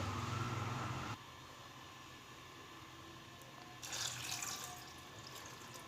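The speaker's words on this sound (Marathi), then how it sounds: "आता यामध्ये आपण हे पाणी घालायचं आहे तर वांगे बुडतील एवढं आपल्याला पाणी टाकून घ्यायचं आहे" Water pours steadily into a pot of brinjals, a continuous close splashing stream that drops to a quieter flow partway through, then briefly swells again.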